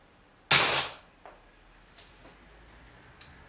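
An HFC HGC-306 CO2 pistol fires one loud, sharp crack with a short hiss of gas close by, followed by fainter clicks and ticks as the airgun is handled.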